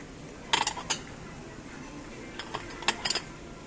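Ceramic tableware is handled in a Carrefour store, with sharp clinks and clatters of plates and bowls in two short bursts over quiet background murmur.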